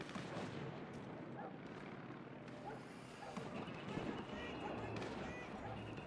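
Explosions and gunfire fill a dense, roaring battle soundscape in Max Payne 3, steady and loud with rumbling blasts and crackling shots throughout.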